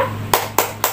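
Three sharp, evenly spaced hand claps ring out close and clear over a steady low hum, part of a children's fire-brigade clapping game in a kindergarten setting.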